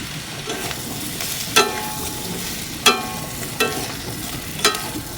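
Boiled semolina being added to a pan and stirred, a low steady sizzle broken by several sharp clinks and scrapes of a spoon against the pan at irregular intervals, close and without speech.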